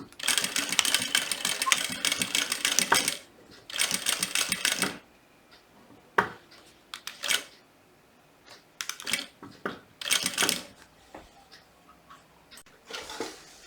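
A sewing machine stitches and backstitches the lining of a butterfly-shaped zippered pouch in short rapid bursts of close, rattling needle clatter. Quieter pauses between the bursts are filled with small ticks and handling noises.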